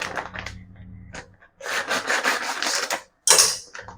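Jaggery being cut into large pieces, giving rough, rasping scrapes in a few separate strokes with short gaps between them, close and fairly loud, with no voices.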